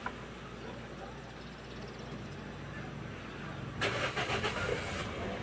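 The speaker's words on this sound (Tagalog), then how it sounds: "So kita natin dito na umaandar naman yung engine" A Toyota Vios with its check engine light on and an overheating problem cranks over and its engine catches, then settles into a steady, moderately loud idle under a mechanic's quiet talk.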